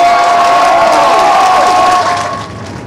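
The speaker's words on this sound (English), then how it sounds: "Cheering on one of their own." Family and friends packed into a social club cheer loudly together, a dense roar of voices with whoops and applause that stays strong before easing slightly toward the end.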